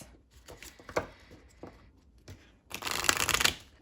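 A deck of thirty-six chakra oracle cards is shuffled up close, with soft taps and slides building into a dense riffling flutter near the end, with no talking.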